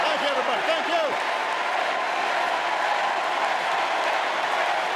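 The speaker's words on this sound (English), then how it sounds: "Y'all applauding too much." An audience applauds steadily throughout, a dense wash of clapping from a large crowd at a political speech event, with cheering voices mixed in.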